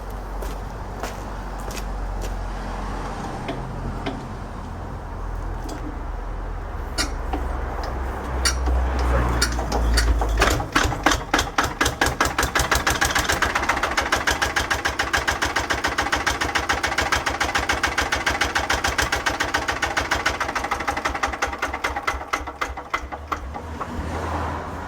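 Restored Lister LD1 single-cylinder diesel engine being cranked over from cold, then catching and running with a rapid, heavy, evenly spaced knocking beat that stays loud and close throughout.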